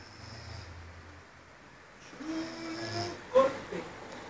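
Two sleeping female dogs snore softly, breathing through their mouths with slow, faint rasping breaths and a brief louder snort near the end, in a quiet room.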